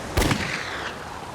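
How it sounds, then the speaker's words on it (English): Pistol gunshots fired in the wilderness by someone signalling for help: a single sharp report with a rolling echo that fades over about a second, moderately loud and alone. "I fired off my 3 last rounds of my pistol to try to get more help."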